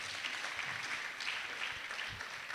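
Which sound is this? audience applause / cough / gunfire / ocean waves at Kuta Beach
audience applause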